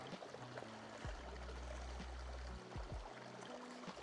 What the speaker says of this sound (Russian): Остановились возле ручья, и местные жители сейчас проезжали, говорят, что здесь вода лечебная, вкусная